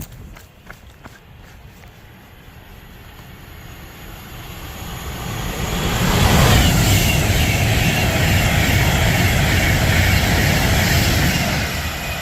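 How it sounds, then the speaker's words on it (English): A Class 390 electric train with a sparking pantograph passes through Rugby station on the West Coast Main Line, bound for London Euston. It starts as a faint rumble with a few clicks, then swells into a loud, close roar that holds as the train rushes by. "That was 390 152 off to London Euston"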